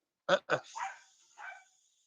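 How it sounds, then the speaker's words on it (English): Several dogs bark loudly in an indoor home setting, two sharp close barks followed by a couple of lower, trailing woofs and yips over about two seconds. "these dogs are being way too loud"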